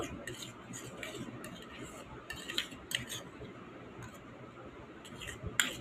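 A spoon stirs oil into a thickening mix of soap foam and powder in a bowl, giving quiet scraping with scattered light metallic clinks and taps at an irregular pace.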